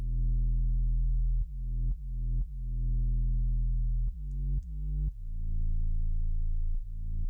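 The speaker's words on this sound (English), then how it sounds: "we move into this, what's called" Deep booming 808 bass notes from a Roland 808 drum machine hit in a slow sequence, each with a sharp attack and a long low decaying tail, loud and alone with no talk.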